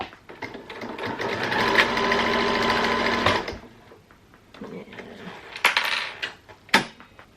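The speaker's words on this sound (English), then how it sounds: "Just going to sew this piece just on the inside of the dress." A domestic sewing machine stitches a Velcro piece onto the inside of a costume dress in a steady burst of rapid clatter for a few seconds, followed by scattered metallic clicks and handling taps.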